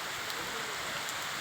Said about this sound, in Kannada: ನಾನು ಹೀಗೆ ಮಳೆ ಬರ್ತಾ ಇದೆಯಲ್ಲ, ವಾತಾವರಣದನ್ನು ವಿಡಿಯೋ ಮಾಡೋ ಅಂತ ನೋಡಿದೆ